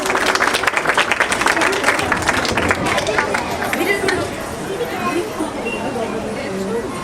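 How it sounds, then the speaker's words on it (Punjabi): Crowd applause rings out at a Teeyan festival in a Punjab village, dense rapid clapping filling the first four seconds before thinning into scattered claps and murmuring chatter. "ਜੇ ਵਧੀਆ ਲੱਗੇ ਇੱਕ ਵਾਰੀ ਤਾੜੀ ਲਗਾਓ ਸਾਰੇ ਜਣੇ"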